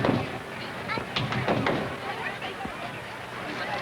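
Tap shoes strike out a handful of toe and heel beats, the first steps of a cramp roll by a jazz hoofer, as a few sharp clicks over a noisy, roomy background.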